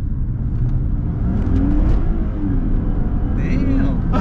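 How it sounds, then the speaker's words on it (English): Car engine revving up under acceleration inside the cabin, a steady loud drone with a strained, struggling intake sound from a worn air filter, with faint talk over it. "I heard your air filter struggling right there."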